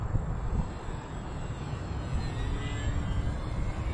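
The motor and propeller of a scratch-built RC plane in flight, a steady buzzing drone heard from a distance with broadband rumble and a faint whine throughout, no talking.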